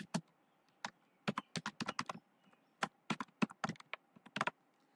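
Typing C++ code on a computer keyboard, with quick irregular bursts of crisp key clicks recorded close, separated by short pauses, with no voices.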